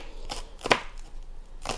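A knife chops green onion on a cutting board, a few sharp distinct cuts spaced out with quiet gaps between them, close and fairly soft, with no talking.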